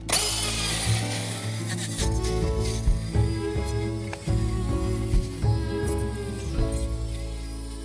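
Router whining as it cuts along a scrap wood template, steady motor tone with repeated rubbing, scraping strokes of the bit through wood, close and fairly loud.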